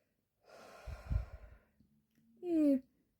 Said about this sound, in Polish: Bierzemy głęboki oddech.